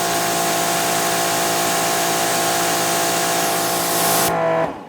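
Pressure washer running with a Realm nozzle, a loud, steady broadband hiss of spray over a constant pump drone, continuous throughout and cutting off abruptly near the end.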